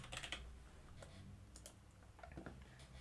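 Several quick, crisp key clicks on a computer keyboard, the Escape key among them, sounding close up in a quiet room with no talking.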